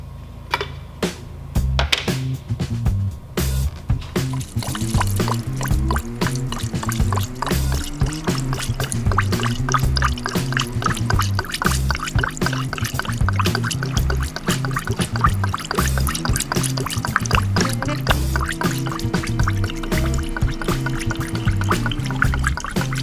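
Coolant pouring into the radiator of a Nissan Altima during thermostat and water valve replacement, a steady gurgling trickle with bubbling and dripping that runs continuously, close by and fairly loud.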